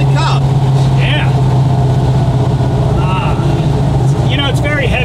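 Big-block engine of a heavy American truck on the move, a loud steady low drone with a strong hum, while people talk over it inside the cab.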